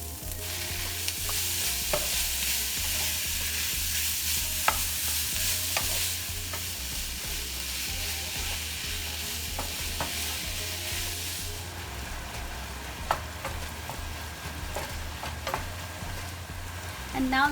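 Minced pork frying in a pan with ginger powder, a continuous close sizzle with occasional scrapes and clicks of stirring, growing slightly softer partway through, with a faint voice now and then.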